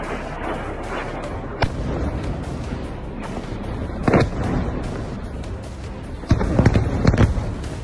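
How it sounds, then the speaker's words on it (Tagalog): Heavy booming blasts from Israeli strikes on Hezbollah positions in Lebanon sound from a distance, several separate thuds and rumbles spread over a continuous low roar, with no voices. "Kita ang shockwave dahil sa lakas ng pagsabog"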